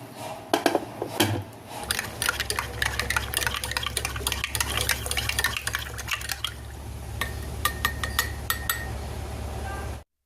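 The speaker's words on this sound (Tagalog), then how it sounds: "sinalinan ko na po ng mainit na tubig ang ating baso" Hot water poured into a glass for coffee, a steady liquid stream running for several seconds alongside scattered glassy clinks and small taps, with a low background hum throughout.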